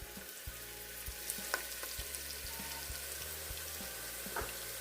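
Soft, steady sizzling of chopped onions frying in warm palm oil, with occasional light clicks and stirring taps, fairly quiet and close.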